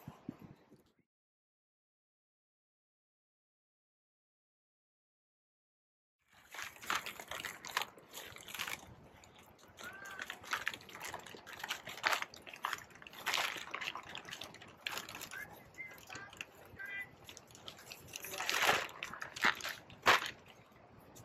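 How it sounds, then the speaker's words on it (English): Water poured onto potting soil around a container-planted citrus tree gives a sustained sloshing trickle with soft splashes after several seconds of silence, close by and alone. "now we're going to put some water on it and compress this a little bit"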